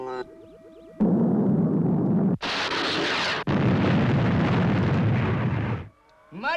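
A missile blast explosion from the Fireball XL5 space puppet show: a loud, roaring burst that swells and rumbles for several seconds with a brief break, framed by electronic beeping tones.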